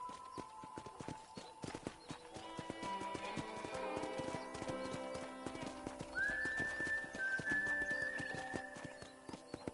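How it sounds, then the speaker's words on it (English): Horse hooves clip-clop at a steady riding gait in the video game Red Dead Redemption, with a whinny partway through and a faint musical tone underneath. "let's see if you can still ride a horse"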